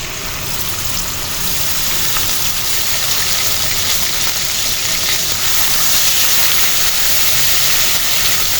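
Onion paste frying in a pan while cooking hilsa fish korma, giving a steady, loud sizzling hiss that holds evenly throughout with no talk.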